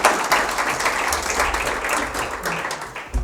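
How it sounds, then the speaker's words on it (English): Audience at a business district report launch event applauding a panelist, a dense, lively wash of clapping throughout with low rumble underneath and no speech. "You get a round of applause."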